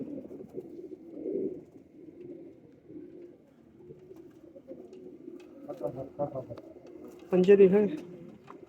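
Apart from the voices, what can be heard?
pigeons cooing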